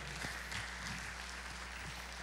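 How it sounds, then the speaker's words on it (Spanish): A church congregation clapping steadily in a continuous dense patter over a low hum, at moderate distance and fairly faint. "Dale palmas fuerte al Rey"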